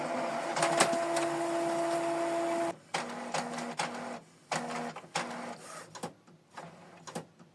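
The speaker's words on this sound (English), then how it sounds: "wait for the printer to power itself on and the system to warm up" A Canon PIXMA TS4151i inkjet printer powers on and warms up with a steady whirring hum and a tone, then mechanical clicks, clunks and short motor buzzes come in irregular bursts close by.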